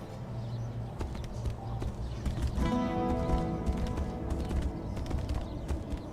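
Horse galloping in the fantasy video game Tainted Grail: steady hoofbeats drum along at moderate volume, and a brief whinny rises partway through over a low ambient bed.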